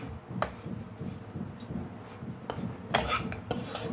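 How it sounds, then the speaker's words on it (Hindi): Wheat flour roasting in a pan over a very low flame for Sindhi atta ladoo, stirred continuously with steady scraping and rubbing strokes, with a few sharper clinks of utensil against pan. "इसे मैं लगातार चला रही हूँ।"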